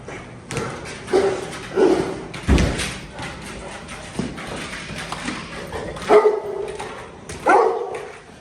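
A Presa Canario barks in short, loud bursts during protection training, mixed with heavy thumps and thuds, with handlers' voices around it.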